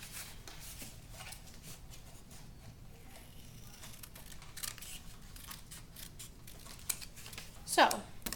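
Scissors cut out a paper tangram piece in a run of close, crisp snips and rustling paper, ending in a sharper crinkle as the piece comes free.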